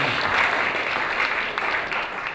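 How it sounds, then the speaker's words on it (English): An audience at a sales seminar claps continuously in a full, even round of applause that holds steady for the whole stretch. "please clap your hands for them"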